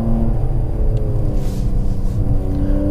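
A 2017 Mercedes C43 AMG coupe engine growls loud and close, a deep steady rumble with rising revs as the car accelerates.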